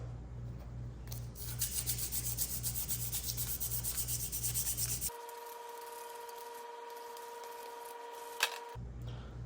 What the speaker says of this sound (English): I got a little scrap piece of 180. Give it a little scuff.